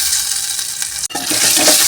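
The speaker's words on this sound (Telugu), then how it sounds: "పచ్చిమిర్చీలు కూడా ఫ్రై అయిపోయినాయి, ఆనియన్స్ కూడా ఫ్రై అయినాయి." Green chillies and onions frying in a pan, a steady close sizzle with a brief stirring scrape in the middle, loud and continuous with no talk.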